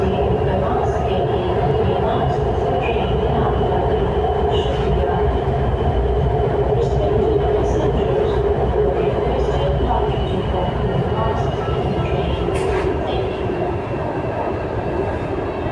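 Lahore Orange Line metro train running, heard from inside as a continuous loud rumble with rolling wheel noise and faint squeals, while someone speaks throughout.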